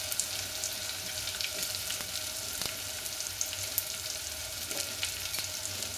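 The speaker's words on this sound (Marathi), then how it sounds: "हे जे ते बटाट्याचे काप कापले होते आपण 2 बटाटे ते पण टाकून घेऊ" Potato slices with turmeric and masala frying in a pan for dal khichda, a steady close sizzle with faint scraping clicks, no one talking.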